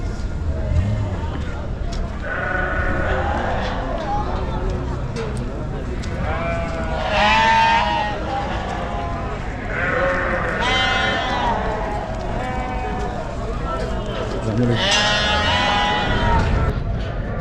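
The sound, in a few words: sheep bleating at a livestock market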